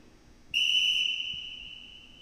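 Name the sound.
referee whistle signal in futsal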